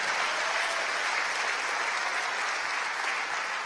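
Church congregation clapping during a Spanish-language sermon, a dense, steady wash of many hands applauding together for the whole stretch, with no voices standing out.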